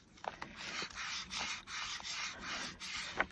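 Back of an inked rubber stamp rubbed by hand onto a mini paper tag: soft, close, rhythmic back-and-forth scrubbing strokes with small tapping clicks, quiet throughout.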